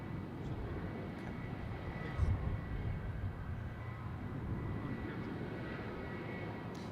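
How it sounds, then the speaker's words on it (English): A Qantas airliner arriving on runway 25 gives off a steady, broad jet roar at a distance. The sound holds constant for the whole stretch and no voice is heard over it. "And arriving on runway 25, Qantas Flight 448 from Melbourne."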